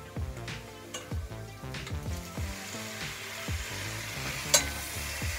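Shredded chicken pieces fry with onions in a pan for chicken chukka, giving a steady sizzle under rhythmic scraping strokes of a spoon and a single sharper clink near the end.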